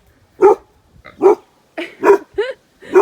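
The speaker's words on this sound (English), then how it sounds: "Oh, he's barking at the horse." A dog barks at a horse in a series of sharp, close barks with short pauses between them, about five in a row, loud and clear with no talking.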